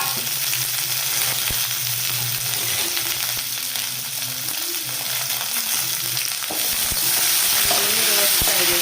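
Loud, continuous sizzling of green chillies, onion, fresh coconut and coriander frying in a pan for chole, with occasional stirring scrapes, steady throughout.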